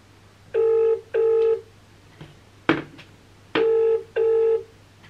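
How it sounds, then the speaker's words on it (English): Telephone keypad tones beep in quick pairs, a short click between them, then two more beeps, all crisp and close. "Shall we actually ring that number?"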